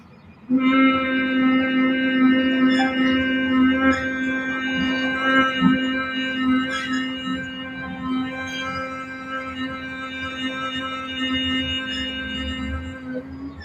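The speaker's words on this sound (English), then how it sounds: "when we exhale, we're going to keep our lips together and just do a humming sound" Sustained humming with closed lips on a long exhale during yoga breathing, a steady harmonic drone that starts abruptly and holds evenly for over twelve seconds.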